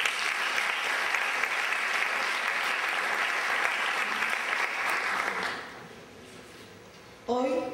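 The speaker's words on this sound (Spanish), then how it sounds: "Fuerte aplauso." Sustained, loud applause from a graduation ceremony audience fills the hall for several seconds, then fades away before a voice begins speaking.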